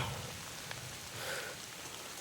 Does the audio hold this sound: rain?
yes